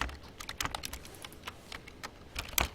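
Keys on a computer keyboard are tapped in a quiet room, with irregular bursts of close, soft clicks and a brief pause in the middle.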